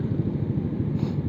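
A Yamaha Aerox 155 scooter fitted with a Proliner aftermarket exhaust idles close by, giving a steady low, throbbing burble with a brief slight rise in the middle.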